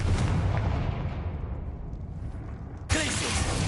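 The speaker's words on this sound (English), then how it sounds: "Confringo." A Confringo fire spell blasts in the Hogwarts Legacy video game, a heavy rumbling explosion that fades, then a second sharp burst near the end, with no speech.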